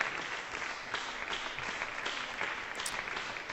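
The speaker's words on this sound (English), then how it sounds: "lots of applause for that" Applause from a small gathering reacting to a Vaganova ballet graduation exam performance, a steady, even patter of many hands clapping throughout at moderate volume, heard alone without talk.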